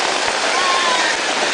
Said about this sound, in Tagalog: Umuulan din.